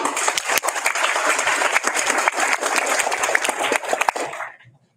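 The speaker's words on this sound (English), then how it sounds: "Clap it up for Owen" An audience at a school board of education meeting applauds a student speaker, with dense, lively clapping that holds steady for over four seconds and then cuts off abruptly into silence.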